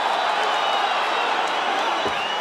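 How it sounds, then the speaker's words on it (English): Brooklyn crowd at a fight cheering steadily throughout, a continuous dense roar of voices filling the arena with no break in the noise. "Brooklyn crowd getting behind these 2 warriors"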